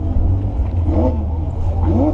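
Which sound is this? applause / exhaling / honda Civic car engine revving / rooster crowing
honda Civic car engine revving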